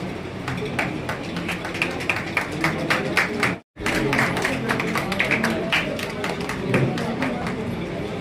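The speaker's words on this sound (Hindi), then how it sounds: "एक बार भरपूर तालियां उन सभी लोगों की भी जिनको यहां हम सम्मानित कर चुके हैं" Audience applause at an award ceremony, a dense, steady patter of many hands clapping with crowd murmur mixed in, cut by a brief full silence midway.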